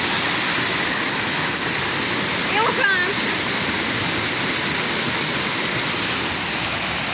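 Steady, loud rushing of a waterfall pouring into a pond at a corporate headquarters grounds, a continuous broadband roar with a brief faint voice-like sound partway through.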